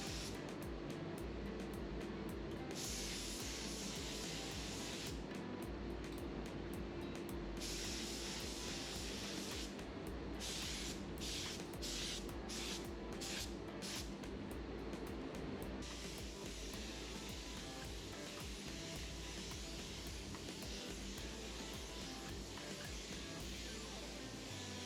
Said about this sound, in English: The spray gun I am using is an A&I R150 mini gun, and I've got a 1mm fluid tip on it.